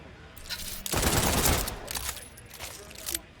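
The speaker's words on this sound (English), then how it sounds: "firing while zoomed in shoots the entire mag" The Phantom Flame gun in Borderlands 4 unloads a rapid burst of gunfire, a dense, loud volley lasting about a second, followed by scattered softer shots and impacts.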